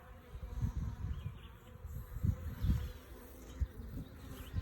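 Honeybees buzz steadily at close range during an inspection of an Italian honeybee hive, the droning rising and falling in soft pulses with no talk over it.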